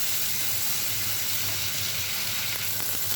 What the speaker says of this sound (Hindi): तो अब हम इसको थोड़ा सा फ्राई करेंगे, हल्का सा